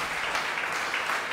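A church congregation claps together in a dense, sustained burst of applause that stays fairly even in level across the short stretch.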